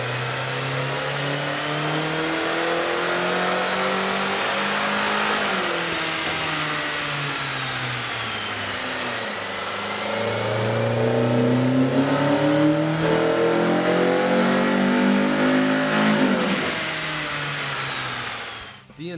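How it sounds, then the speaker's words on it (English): A 2010 Kia Forte 2.0L engine fitted with an aftermarket air intake revs on a dyno, rising in loud steady sweeps of climbing pitch and dropping back before a final high pull, close and continuous. "we ran the vehicle on the dyno to test the sound comparison versus the stock intake"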